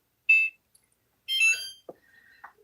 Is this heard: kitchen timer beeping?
yes